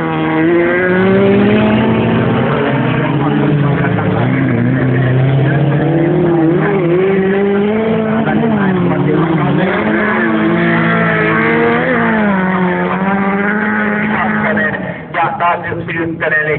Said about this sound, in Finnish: Simonen hyppii, kun Aro jänis tuolla keskialueella, mutta pystyy pitämään auton kuitenkin linjassa siellä